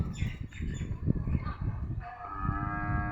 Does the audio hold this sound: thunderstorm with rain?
no